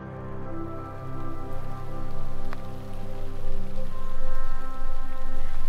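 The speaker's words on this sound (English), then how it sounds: "as you can see, the rain has followed me." Rain falls steadily in the Lake District, a constant even hiss that swells slightly toward the end, with no voices over it.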